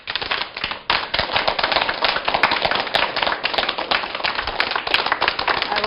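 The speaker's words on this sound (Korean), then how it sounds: "큰 박수로 맞이해 주세요." An audience gives a speaker a welcoming round of applause, with dense, continuous hand-clapping that stays loud and even, shaped by sharper individual claps, and no voices over it.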